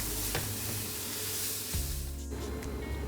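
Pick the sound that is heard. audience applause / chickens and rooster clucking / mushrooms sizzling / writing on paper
mushrooms sizzling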